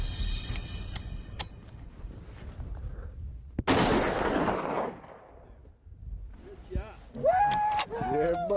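A single hunting rifle shot at a buck cracks sharply and close, trailed by a fading rumble of echo, with quiet whispered talk before and excited voices afterward.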